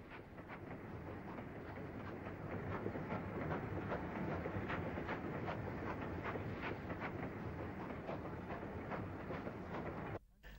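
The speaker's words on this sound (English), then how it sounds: "The train is banked by another J15, number 161, built in 1871." A steam train banked by Irish J15 locomotive number 161, built 1871, passing on the railway in 1962, with a steady rhythmic clatter of wheels over rail joints, loud and continuous, ending with an abrupt cut.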